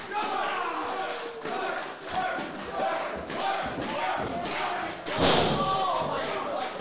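A heavy body slam thuds during a wrestling video game match, a Manhattan drop landing amid a roaring arena crowd, with a sharp impact burst near the end over continuous cheering and commentary-like voices.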